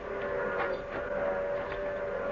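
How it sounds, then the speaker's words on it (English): An approaching train in an old Western radio drama, a steady mechanical rumble topped by a sustained, mournful whistle-like tone at moderate volume, heard alone without dialogue. "The train's coming."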